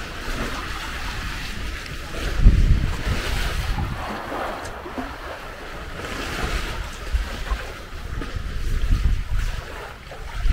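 Sailboat under sail in rising wind between Tenerife and La Gomera, with steady wind rush and waves slapping the hull, louder surges at intervals; no talk over it.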